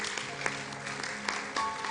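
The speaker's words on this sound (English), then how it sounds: "Let's clap for him." An audience at a morning church conference session claps together in a brief burst of dense, fairly distant applause that carries steadily for two seconds.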